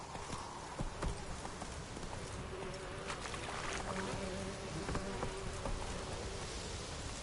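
A horse's hooves clip-clop at a steady walking rhythm in a PS4 video game, mid-distance and moderately loud over ambient outdoor game sounds with insect-like buzzing.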